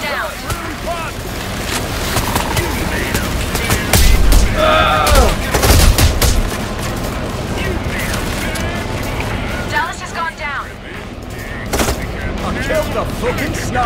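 Gunfire in the Payday 3 video game, loud bursts of rapid shots and heavy booms clustered around the middle, with someone talking over the action.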